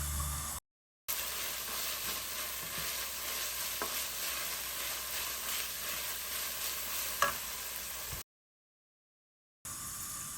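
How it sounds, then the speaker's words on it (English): Dried spices are stirred into softened vegetables sizzling in a pan for a vegan lasagna filling: a continuous close frying hiss with occasional soft scrapes from the spoon, broken by two short silent gaps. "the dried spices I like to wait till everything's soft and I add them in and give them a stir"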